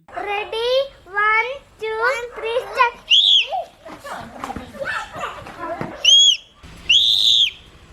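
A young boy whistles through his nose with his mouth closed, mimicking a real whistle at a family Onam gathering; after some child vocal sounds come three sharp, shrill, sustained whistle blasts, close and loud.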